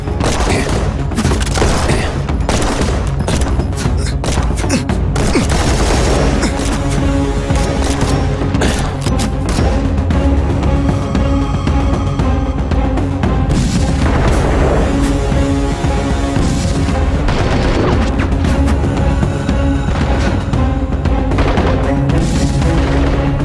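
Movie battle gunfire and explosions rage almost nonstop: rapid bursts of shots, heavy booms and clattering mechanisms, loud and dense from start to finish.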